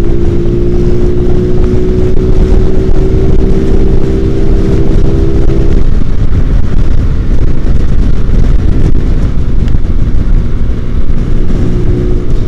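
Automatic scooters, a Honda Beat and a Yamaha Mio, ride along a rural road near Bendo Dam in Ponorogo, with a loud steady engine drone and heavy wind rush close to the microphone, one engine pitch shifting midway.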